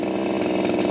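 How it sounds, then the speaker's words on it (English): A Shindaiwa M230 multi-tool saw cutting into a tree runs at a loud, steady high-revving engine whine, close by and alone with no talk. "Got the multi-tool ready. Let's go on ahead and take down a little bit of this tree, see how we can do."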